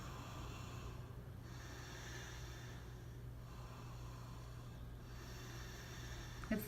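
Slow, deep breaths during a yoga flow, three long airy inhale-exhale cycles, soft and close over a low steady background hum, without any talking.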